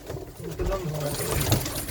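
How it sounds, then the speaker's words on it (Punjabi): A black racing pigeon coos softly up close in a loft, its low murmuring notes running under nearby human voices. "ਇਹ ਕਾਲੀਆਂ ਖਾਣ ਵਾਲਾ ਕਬੂਤਰ ਹੈ"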